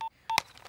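Telephone keypad dialing tones, three short electronic beeps with a sharper click on the third, close and clear in under a second.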